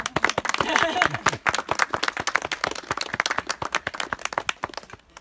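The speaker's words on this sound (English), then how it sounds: "applause for Cate" A small outdoor crowd at the General Sherman Tree in Sequoia National Park claps for a park ranger, with brisk, scattered handclaps that start dense and then trail off into sparse individual claps, with voices underneath.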